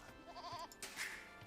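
Goats bleating in the Age of Empires II strategy game: a couple of short, wavering bleats, fairly faint, followed by a brief brighter animal call.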